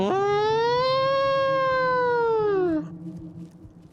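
A single loud siren wail in Fallout: New Vegas Dead Money, a steady rising-then-falling tone held for almost three seconds before cutting off into faint background noise.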